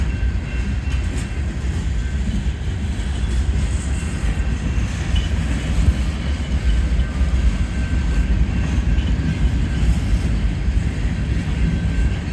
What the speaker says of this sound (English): the train isn't going very fast